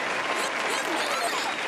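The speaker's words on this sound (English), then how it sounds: "Round of applause." A brief burst of applause from a group, with voices mixed in underneath the clapping.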